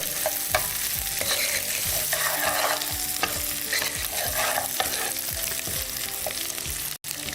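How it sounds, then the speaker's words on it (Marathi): Ginger, garlic and chili paste fries as a tadka in a pan, giving a steady loud sizzle throughout with repeated scraping strokes from a stirring spoon. "आले लसूण मिरची पेस्ट आणि हा तडका छानपैकी भुनून घेऊयात हलका असा ब्राउनिश कलर येण्यापर्यंत"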